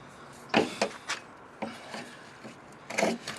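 A retractable hand saw cuts through PVC pipe in a few separate rasping strokes, each short and fairly close, with brief pauses between them and no talking.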